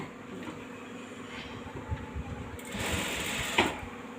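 A sewing machine stitches piping onto the front of an embroidered blouse, giving a close, rapid mechanical rattle that runs continuously and grows louder and denser toward the end.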